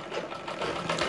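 A sewing machine runs in a short, steady burst of fast mechanical whirring while stitching a katori blouse sleeve from the center outward.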